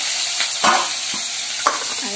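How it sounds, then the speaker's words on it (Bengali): Potatoes with tomato and green chilli frying in a pan, a loud close sizzle broken by a few scraping stirs of a spatula, with no talk. "আলুগুলো আমি ভালো করে ভেজে নেব"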